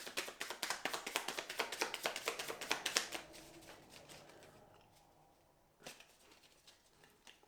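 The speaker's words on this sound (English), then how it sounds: "All this shuffling again." Tarot cards are shuffled in quick, faint riffling bursts for a few seconds, then the handling thins out to sparse soft taps.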